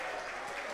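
Cheering and applause from a college men's basketball crowd at a Franklin vs. Hope game, a dense, steady roar filling the arena, with a commentator's voice faintly beneath.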